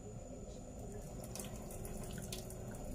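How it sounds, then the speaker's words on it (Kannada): Water pours and trickles steadily as cooked ration rice is drained, a faint continuous splashing stream heard close with no talking. "ಈಗ ಅನ್ನ ಬೆಂದಿದೆ, ಅನ್ನನ ಬಸಿತೀನಿ."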